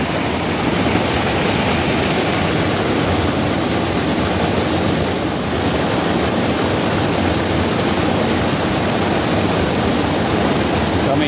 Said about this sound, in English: I'm the only one out here bearing the atmospheric river. It's so loud